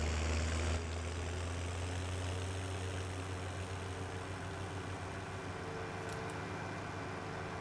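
A small farm tractor in a farming video game idles with a low, steady engine drone and hum, continuous and moderately quiet throughout.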